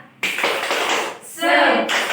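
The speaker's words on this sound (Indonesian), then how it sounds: "Tepuk semangat." A class of schoolchildren stands and performs a rhythmic spirit clap in a classroom, with quick, loud, evenly spaced claps over chanted voices and a brief lull midway.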